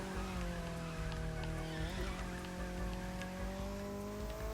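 A car drifts with a long, continuous tire squeal over a droning engine, the pitch wavering slightly as it slides, steady and fairly close with no talking.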